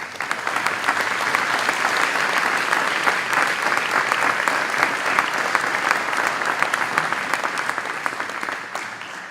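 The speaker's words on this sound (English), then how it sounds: "So I want to give everybody a round of applause." A crowd claps steadily and loudly for several seconds, dense applause that holds its level before tapering slightly at the end.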